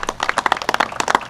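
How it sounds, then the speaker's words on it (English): Applause for county officials at a press event about a temporary dam system in Greece, NY, a brief burst of crowd clapping, fairly close and dense, with no talking. "Let's give them a round of applause."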